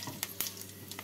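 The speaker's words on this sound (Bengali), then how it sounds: "তেলটা গরম হয়ে গেছে, এবার এর মধ্যে ফোড়নটা দিয়ে দিচ্ছি।" Whole spices for a tempering crackle in hot oil in a short, close sizzle. A few sharp pops stand out over a steady hiss.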